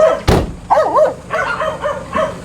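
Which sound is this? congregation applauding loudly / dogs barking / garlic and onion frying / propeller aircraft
dogs barking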